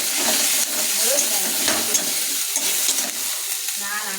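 Ginger and garlic fry in a hot pan with a steady broadband sizzle, stirred now and then with scraping strokes; close and continuous, with no voices.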